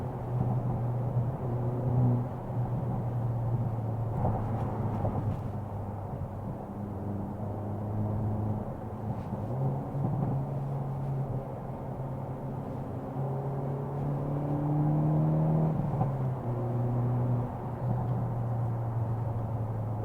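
A 2022 Hyundai Elantra N circling a track with rev matching on, its engine a steady low droning hum from inside the cabin, pitch sliding up and down with shifts and a rising pull near the end, no talk.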